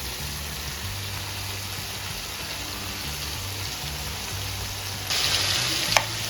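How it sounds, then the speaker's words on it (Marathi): Chicken pieces fry on a small hot tawa pan with a constant close sizzle, while a low steady hum runs underneath. The sizzle swells louder and brighter near the end, and a short sharp clink follows. "अशा प्रकारे आपल्याला ते फ्राय करून घ्यायचे."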